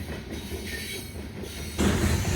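A freight train passes steadily nearby with a GE AC44CWCTE locomotive running as the rear DPU, giving a rumbling roll of railcars with rattling wheels that grows louder near the end.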